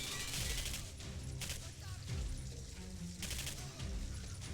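Gunfire rattles out in Singularity, with three separate loud bursts of rapid shots spaced about a second apart amid a busy game soundscape.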